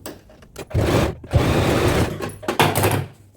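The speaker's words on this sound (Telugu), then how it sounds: "ఇప్పుడు ఒక హాఫ్ ఇంచ్ మార్జిన్తో స్టిచ్ అనేది వేద్దాం" A sewing machine runs close by, stitching a dhoti seam in short bursts with a quick start, a sustained rapid chatter of the needle, brief pauses and a final run, with no voices.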